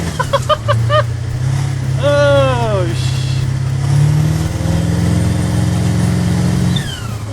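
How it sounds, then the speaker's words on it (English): A turbocharged mini big rig truck accelerates hard, its engine droning loud and close with a rising turbo whoosh, while a voice exclaims over it. "I don't know if you could hear the turbo on the audio, but it just whoosh, lit up"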